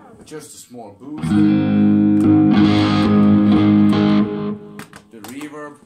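An electric guitar through a small boost pedal rings out in a loud, sustained, slightly driven chord passage, with someone talking briefly just before and after it.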